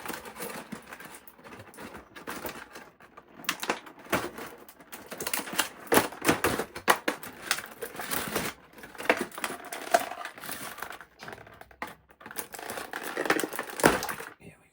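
Tape peeling and crinkling off the packaging of a Neca Halloween II Michael Myers and Dr. Loomis figure two-pack, close rasping rips and plastic crackles in irregular bursts, no talking.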